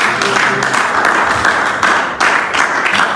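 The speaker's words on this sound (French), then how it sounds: "Acclamons pour le Seigneur" A church congregation applauding and cheering for the Lord during a joyful worship service, a dense, steady wash of many hands clapping with a brief dip partway through.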